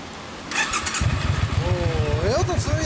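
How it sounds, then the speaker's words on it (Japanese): A 2001 Suzuki Intruder Classic 400 with a stock exhaust cranks and catches, then settles into a loud, throbbing idle with a few revs; a voice chatters briefly in the background. "はい、エンジン音聞かせてください。"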